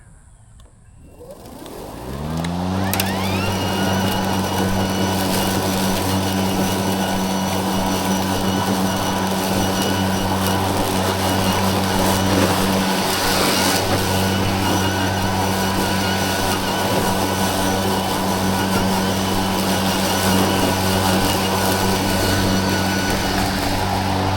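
An Ego electric mower spools up and then runs steadily at blade speed 2 through thick grass, a loud sustained motor whine with a constant hum that holds level to the end.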